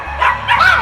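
A dog called Desi gives a couple of short yipping barks close by, two quick bursts in under a second, heard from inside a car.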